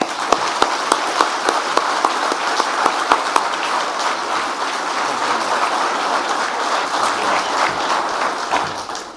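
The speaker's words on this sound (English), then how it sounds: "I hope you will join me in an applause for these two" Applause from the audience at the opening of a NATO Military Committee conference, a few sharp individual claps at first swelling into steady, full clapping from a large crowd that holds evenly before easing off.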